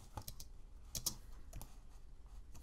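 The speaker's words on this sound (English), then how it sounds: "And I'll hit 3 on the keyboard." Someone presses a key on a computer keyboard, giving a few soft, close taps with a slightly louder pair of clicks near the middle, set against a quiet room background.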